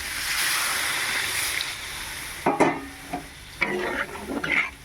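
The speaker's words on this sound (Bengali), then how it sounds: "এবার আমি জল দিয়ে দেবো।" Water hits a pan of oily fried spices for a pointed gourd curry, a quiet simmering hiss suddenly broken by sharp splashing sizzles and bursts, close and loud.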